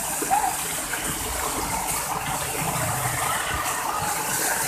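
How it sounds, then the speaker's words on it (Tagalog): Steady, strong rushing water pours continuously like a small waterfall, a dense broadband roar that stays even throughout with no voices. "Ang lakas ng tubig, oh"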